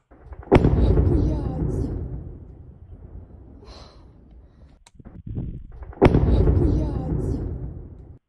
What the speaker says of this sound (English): I think I hear gunfire, but I think the gunfire is from the anti-air guns